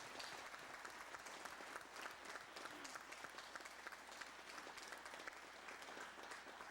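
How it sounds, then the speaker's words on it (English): An audience at a concert applauds steadily, dense clapping that holds at an even level throughout and sounds faint and distant. "Give him a nice round of applause."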